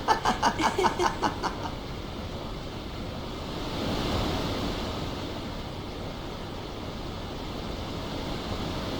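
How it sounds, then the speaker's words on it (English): Wind blows in a scene from the video game Final Fantasy X, with a soft broad rush that swells in the middle, after a short run of rhythmic bright tones at the start. "The wind. It's nice."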